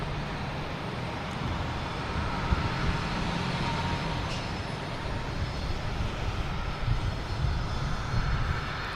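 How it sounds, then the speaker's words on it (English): Jet airliner taking off from runway 22 Left at Boston Logan Airport, a steady broadband engine roar that holds loud and even throughout, heard from a distance on the field with no voices. "That's clear for takeoff."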